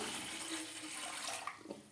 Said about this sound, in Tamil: ஒன்றரை கிண்ணம் தண்ணி ஊற்றிக்கலாம்